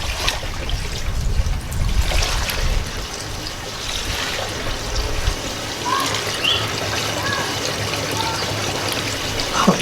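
Gasoline pouring from a gas can through a funnel while working on a 1968 Ford Ranchero, a steady close gurgling trickle of liquid that runs throughout with some splashing surges.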